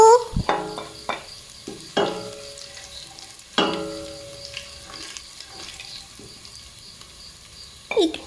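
Spices and aromatics, including garlic, onion and cinnamon bark, are stirred and fried in a pan for tempered mushrooms. Sharp clinks of a spoon against the pan come at intervals over a quiet, faint sizzle, with no talking.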